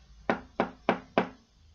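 Four sharp knocks on a wooden door at an even, steady pace, close and distinct against a quiet background.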